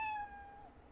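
A cartoon cat named Eve gives a single clear meow in the Professor Layton vs Phoenix Wright video game, a bright falling tone that fades within a second, heard alone.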